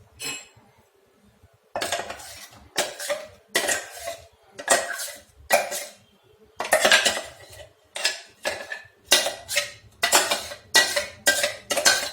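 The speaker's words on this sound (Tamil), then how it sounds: "இதை நீங்கள் வந்து ஒரு பாத்திரத்தில் ஊற்றி வச்சுங்க" Mint chutney being scooped and tapped from a mixer jar into a vessel, a series of loud, close metal clinks and scraping clatters of utensil against steel in rhythmic bursts, no talking.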